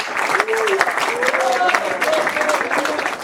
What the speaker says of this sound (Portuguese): Pode aplaudir o Senhor nesta noite.